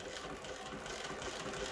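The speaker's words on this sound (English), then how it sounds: "So I'll just do a little bit of sewing now." Cornely chain stitch sewing machine running steadily, a soft continuous whirring and rattling hum that stays even throughout, fairly faint and without talk.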